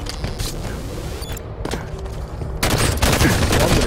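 Gunfire in the Halo 5 video game: a dense, continuous burst of rapid shots with mechanical clatter, growing louder and fuller toward the end, with no clear talk over it.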